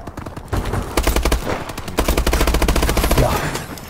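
Rapid gunfire from a pistol in the online shooter Call of Duty: Advanced Warfare, a steady stream of loud, closely spaced shots over background game noise, with a brief pause near the middle.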